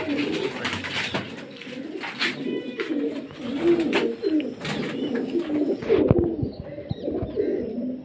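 Racing pigeons coo repeatedly at close range, their low, throaty calls overlapping in an uneven rhythm with a few faint chirps mixed in.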